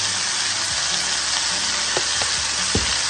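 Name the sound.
meat browning and searing in a pan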